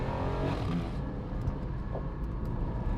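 A Porsche 718 GT4 engine accelerates hard in second gear, a loud steady revving roar from inside the car with no talk.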